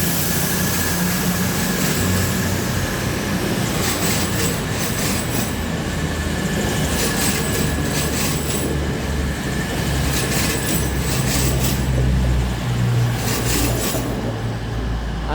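An East Midlands Railway train passes through Nottingham station, a loud, continuous rumble of wheels on track with rhythmic clicks from the rail joints and a thin squeal running through it.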